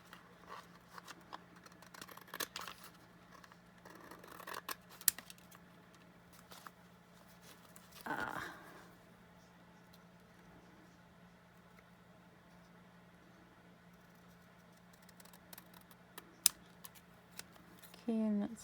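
Scissors trimming paper for a junk journal, a few short snipping cuts close by, scattered among quiet rustling of paper with a person speaking between the cuts.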